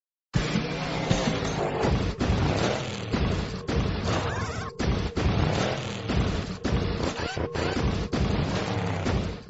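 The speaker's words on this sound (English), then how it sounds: "that's the sound of a Countach at high revs" A loud, raspy high-revving Lamborghini Countach engine roar, continuous and close, with brief dips and surges as the throttle flickers.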